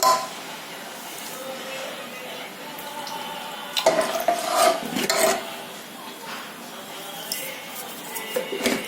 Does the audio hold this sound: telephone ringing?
no